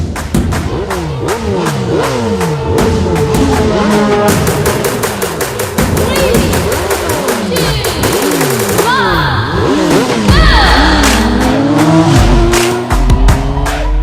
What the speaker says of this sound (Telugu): రేస్ స్టార్ట్ అయింది. అది రేసింగ్.